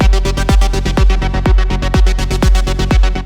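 Electronic synth lead processed with EQ, OTT multiband compression and Decapitator and Little Radiator saturation, pulsing in a steady beat-driven pattern with a deep low-end hit on each pulse, loud and dense, with no voices.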